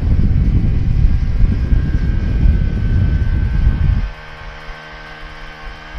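A motor boat engine on a boating ride off Shrivardhan Beach roars loud and steady with wind-like rumble, then drops abruptly after about four seconds to a lower, smoother idling hum.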